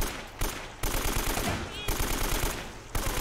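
A turret machine gun fires in the video game Uncharted: Drake's Fortune, sharp rapid rattling shots in three close bursts split by brief gaps. The fire is loud and dense.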